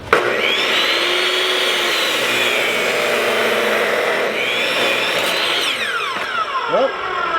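Power saw running with a wobbling blade, a loud steady whine that holds continuously for several seconds and dips briefly in the middle before trailing off at the end.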